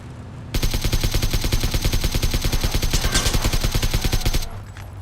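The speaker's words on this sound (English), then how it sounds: "That's a lot of kick on this AK." Sustained burst of AK rifle fire in PUBG, a rapid, even stream of loud close shots lasting about four seconds before cutting off, with no talk over it.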